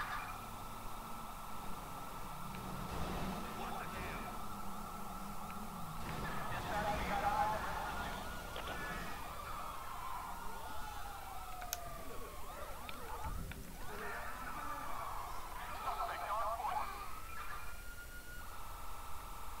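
Police car siren in GTA V with the LSPDFR mod during a sheriff traffic stop, wailing continuously at moderate level with rising and falling sweeps under engine and ambient game noise.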